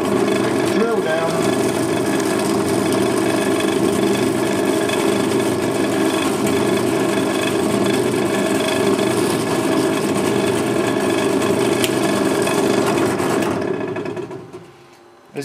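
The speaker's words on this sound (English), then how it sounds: "Turn on the machine and drill down." A drill press runs with a steady high mechanical whine and buzz for several seconds while drilling a circuit board, then spins down to silence.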